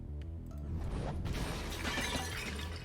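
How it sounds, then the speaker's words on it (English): A bone creature is smashed with a chair leg in the Fate/stay night game, a sharp shattering crash with rattling debris, followed by continued clattering and mechanical rattle under steady background noise. "I smashed the blocking bone creature with the chair leg in my hand"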